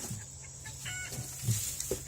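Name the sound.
baby chicks clucking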